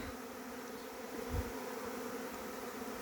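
A large honeybee swarm buzzing, a faint, steady, continuous hum heard alone, with a brief swell partway through.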